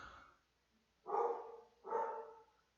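A dog gives two separate barks about a second apart, fairly close and clear against a quiet indoor background.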